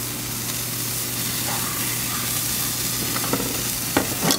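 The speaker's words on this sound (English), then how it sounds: "Get that butter melting over there. Let it cook on the other side a little bit." A thin-cut porterhouse steak fries in melted butter in a pan, giving a steady, loud sizzle and hiss throughout with a few brief clinks near the end.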